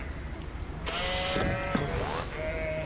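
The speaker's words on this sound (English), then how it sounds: "flock of sheep" A flock of sheep bleats in the driving game Keep Driving: several wavering calls overlap at moderate loudness over a steady low background hum, with no talk.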